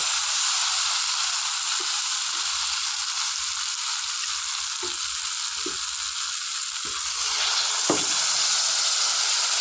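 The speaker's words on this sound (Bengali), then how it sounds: "আমি এবারে জল ঢেলে দেবো।" Okra and potatoes with spices fry in a pan in a steady, close hiss and sizzle, with light stirring taps, then a brief surge where water hits the hot pan.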